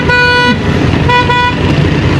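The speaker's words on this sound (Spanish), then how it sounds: "Creo que les gusta pitar." Car horns blare on a street in the city of Masad, two loud, close toots, the first about half a second long and the second a shorter blast, over low traffic rumble.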